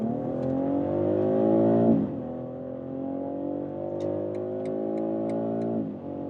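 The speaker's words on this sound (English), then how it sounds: "That was a quick sprint from 50 kilometers an hour to 150 in the sport mode, starting with the BMW X3 M50" BMW X3 M50 SUV accelerating hard in sport mode from 50 to 150 km/h: a loud, continuous engine note that climbs in pitch, drops briefly at a gear change, then climbs again, heard from inside the cabin with faint ticking.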